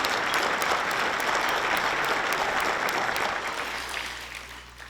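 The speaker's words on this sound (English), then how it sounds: "Please give a round of applause for our city's leadership." A large audience at a city's State of the City event in Irving applauds its city leadership, a dense, steady wash of clapping that stays loud throughout before easing slightly near the end.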